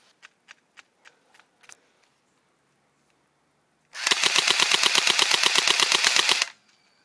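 A DS4 CQB airsoft gun fires in burst mode: a few separate clicks and handling sounds first, then a loud, rapid rattling stream of shots lasting over two seconds before cutting off.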